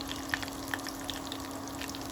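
Soft continuous sizzling of garlic, cumin and tempering seeds in hot oil with a few sharp pops, close by and fairly quiet, under a steady low hum.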